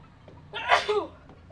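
A single close, sharp sneeze bursts out of a quiet background, followed by a brief trailing vocal sound.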